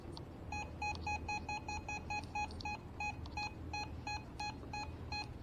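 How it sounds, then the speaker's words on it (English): Rapid electronic beeps repeat in quick bursts throughout, sharp and tonal over a low background hum. "See that it beeped?"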